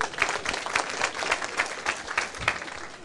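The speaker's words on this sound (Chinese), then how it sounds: "拍手。" Audience members at a lecture hall political speech break into steady clapping, a dense, continuous wash of applause from many hands that stays fairly loud throughout without any voices.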